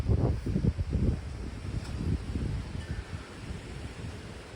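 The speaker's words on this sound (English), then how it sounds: "Like every once in a while we have like this gust of wind." Outdoors in breezy, windy weather, gusts of wind buffet and rumble against the microphone in uneven surges, strongest at the start and easing off toward the end, with faint rustling beneath.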